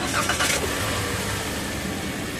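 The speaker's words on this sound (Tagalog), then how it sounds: "Pag okay na, pa-start ko na itong makina." A Toyota Rush car engine starts up, a short burst of cranking and catching that settles into a running hum, close and fairly loud over steady background noise.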